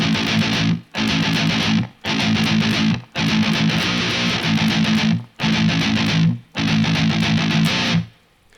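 A distorted electric guitar in dropped A tuning plays the intro riff. Loud chugging bursts are separated by short, sharp silences, with six or seven phrases in a row and no voice.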